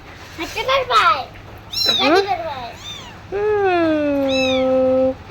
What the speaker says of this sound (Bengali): বিড়াল আমার খুব পছন্দের একটা প্রাণী।